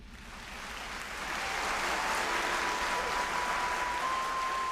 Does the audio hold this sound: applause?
yes